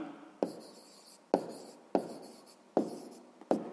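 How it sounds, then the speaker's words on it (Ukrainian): Pen strokes on paper writing out a math answer, five crisp scratching strokes at an even pace, close and quiet, each starting with a sharp tap and fading away. "записуємо тоді відповідь"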